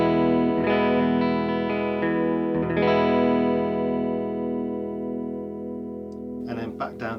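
A 2019 left-handed Gibson SG Standard electric guitar with ebony fretboard, played on its neck pickup, rings out in sustained, distorted chords that slowly fade, followed at the end by a few brief scratchy string noises.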